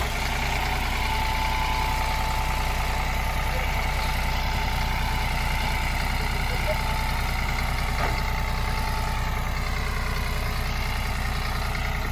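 A farmer's truck engine idles steadily at close range, a loud, even low rumble with a rapid regular throb that holds unchanged throughout.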